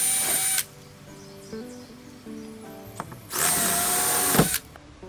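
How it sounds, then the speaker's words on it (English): A power drill runs in reverse to back rivets out of a Com Pac 16 sailboat's rub rail, in two loud close bursts separated by a quieter whirring stretch with faint clicks. "You got to put the drill in reverse, hold on to them, and then walk them off of there."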